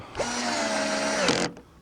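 A power drill drives a screw while a wiper linkage and motor are installed on a Ford E-250 van: one steady, loud whirring run of about a second with a whining tone that drops slightly in pitch before stopping abruptly.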